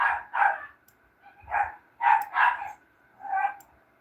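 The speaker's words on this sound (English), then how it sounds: "My dogs are going crazy." Several household dogs bark in short excited bursts, two or three yaps at a time with brief pauses between, fairly close and loud indoors.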